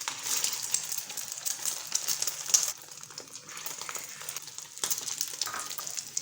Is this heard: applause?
no